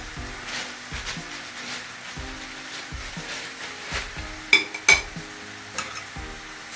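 A spoon stirs a filling in a bowl while baked pirozhki are being made, scraping and clicking in a steady, soft rhythm, with a couple of brighter clinks near the end.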